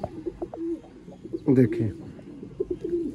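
Sialkoti pigeons coo in a loft, low throaty burbles repeating around someone speaking briefly in the middle.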